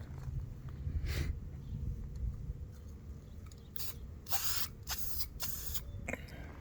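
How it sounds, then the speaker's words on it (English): Purple cleaner sprayed onto the cast iron front spindles of a 1974 Pontiac Trans Am during restoration, several short hissing bursts close up, the last few clustered together, over low background noise and no speech. "I clean the spindles in purple cleaner."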